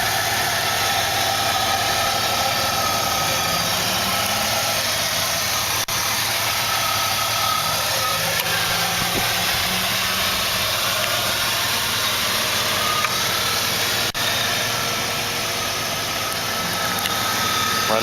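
2002 Jeep Liberty Limited with a 3.7 liter V6 engine idling, a steady, even mechanical hum and rumble that holds constant from start to finish.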